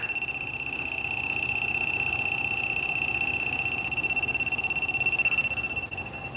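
Indoors near a TV, a hidden camera detector sounds a steady, shrill electronic tone that holds continuously throughout, with a faint background hum and no speech.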